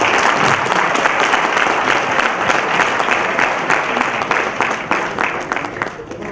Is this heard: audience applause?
yes